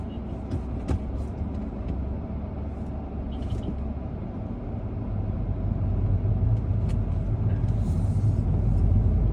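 A car idles at a traffic stop during an evening drive in Riyadh, giving a steady, close low rumble of engine and road noise that swells slightly toward the end, with no talking.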